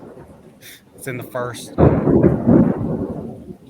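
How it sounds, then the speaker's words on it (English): A thunderstorm outdoors sends a loud, deep roll of thunder rumbling in about halfway through and carrying on to the end, following a stretch of talking. "Got a thunderstorm going on right now."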